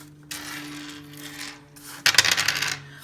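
Dice for a math bingo game tumbling across a surface, a soft rolling rattle, then a sharp cluster of clicks and clatters as they bounce and settle, close by with no talking.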